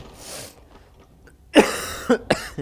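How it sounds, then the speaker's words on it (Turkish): Several close, harsh coughs from one person in a quick burst after a quiet stretch with a faint throat-clearing, during a Battlefield 1 gaming session. "Öksürmekten özür dilerim arkadaşlar."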